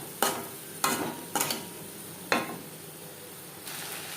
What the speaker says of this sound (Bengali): পেঁয়াজের সাথে মাছের তেল বেশ ভালো করে মিক্স করে দেবো